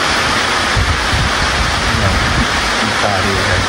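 Rain falling outdoors outside a house after washing the front yard and car, a steady dense hiss close by with no pauses through the whole stretch.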